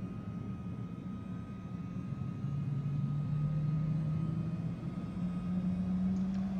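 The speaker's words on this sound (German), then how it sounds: "sodass wir nun das Triebwerk starten können" A Cirrus Vision Jet engine spooling up in a flight simulator, a faint, steady low rumble with a slowly rising whine underneath.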